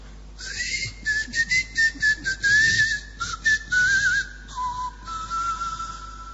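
A person whistles a wavering tune in a series of short and longer piercing notes, clear and close, with no talking.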